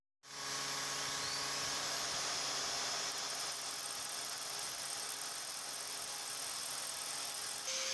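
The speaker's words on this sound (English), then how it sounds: "put it in the drill, and then I can spin it and I can get a nice round finish." A drill spins a Damascus steel ring for sanding to a round finish, giving a steady, high-pitched motor whine with faint rattling, quiet and continuous for several seconds, starting abruptly with no talking.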